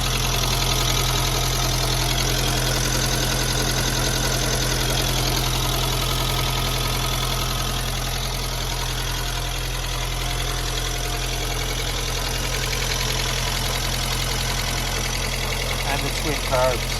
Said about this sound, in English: So as the engine's purring